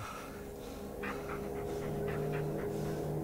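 A dog pants quickly and rhythmically inside the Blair Witch video game, a soft run of breaths rising over a steady, dense forest ambience and lasting about two seconds.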